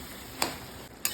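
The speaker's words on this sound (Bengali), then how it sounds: "ভালো করে নাড়ি চাড়িয়ে নিচ্ছি।" Ash gourd curry is stirred in a pan over a low, steady sizzle, with two sharp scrapes of the spoon against the metal about half a second apart, close and quiet.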